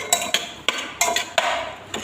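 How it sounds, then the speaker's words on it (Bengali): Ridge gourd with salt gets stirred in a pan, a metal utensil clinking and scraping against the pan in a quick, uneven series of sharp knocks. "এবার ভালো করে নাড়ব।"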